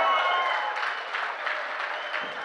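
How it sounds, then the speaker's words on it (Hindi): An audience at a Hindi comic poetry recital claps together in a short, even burst of applause, moderately loud and steady throughout, with no speech over it. "तालियां बजा कर, तालियां।"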